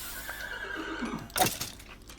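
A horse in the Minecraft video game neighs once in a loud, rising whinny near the middle, with a faint earlier call and soft game ambience around it.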